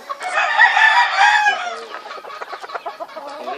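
A rooster and hens of a fighting-cock breed crow and cluck close by, a long harmonic crow for about a second and a half followed by a run of short, rhythmic clucks.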